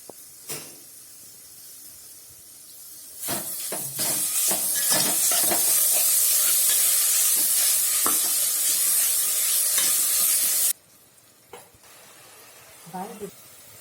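Jaggery syrup with sesame seeds boiling and being stirred in a pan for crisp karjikai: a loud, steady sizzling hiss with stirring clicks runs for about seven seconds, then drops away, followed by a short bit of voice.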